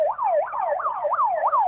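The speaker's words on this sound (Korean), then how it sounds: "사이렌 좀 지나가면?" An emergency siren wails in a fast, repeating rising-and-falling yelp, about five sweeps in quick succession, loud and clear with no talk over it.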